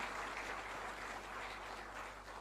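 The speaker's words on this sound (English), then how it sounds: "Let us all welcome with a big round of applause the galaxies of the dignitaries for this inauguration function." Audience applause at an inauguration function for a digital forensic laboratory, a steady dense wash of clapping at moderate distance, sustained evenly throughout without speech.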